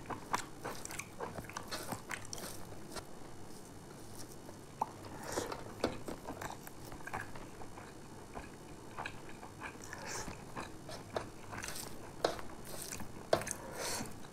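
Someone eating pork curry with a ground leaf paste makes quiet, close chewing with soft crunches and wet squishy bites scattered irregularly throughout.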